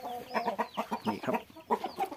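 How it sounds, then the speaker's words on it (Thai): An aggressive-breed fighting rooster kept on a Thai breeding farm gives a run of close, loud clucks and short crowing calls in uneven bursts, with no talk over it. "อันนี้ไก่ชนสายพันธุ์ดุอยู่นะครับ"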